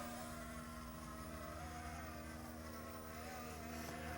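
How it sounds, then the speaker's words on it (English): The brushless motors of an S156 toy drone drone steadily at a distance, giving a faint buzzing whine throughout with small shifts in pitch. "it's really a drone that you're going to want a calm day to fly"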